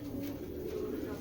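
A khaki female Giribaz pigeon gives a short, soft, low coo up close, with faint background noise.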